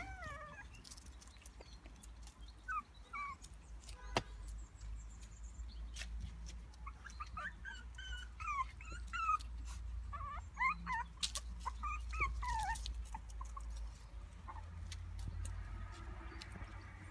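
Young pups outdoors on their first time outside give scattered high whimpers and yips, faint and intermittent over a low steady background hum, with no one talking.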